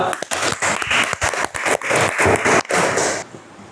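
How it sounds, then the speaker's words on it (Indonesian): A school class gives a student group a round of applause indoors, with dense, loud clapping from many hands that stops abruptly near the end. "kita kasih tepuk tangan dulu untuk kelompok 2"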